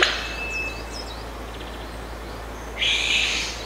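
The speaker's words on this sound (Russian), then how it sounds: "Лес оглашается взволнованным птичьим криком." Excited bird calls ring through a forest at dawn, with a male calling: thin rising and falling whistles early on, a sharp opening note, and a louder burst of calls near the end over quiet woodland air.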